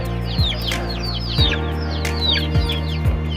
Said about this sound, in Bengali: কাকির অনেকগুলা কোয়েল আছে।